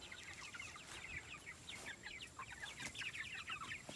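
A flock of chickens clucks and chatters continuously while pecking at fresh grass outdoors beside a moved chicken tractor, many overlapping soft calls at close to moderate distance with no talking.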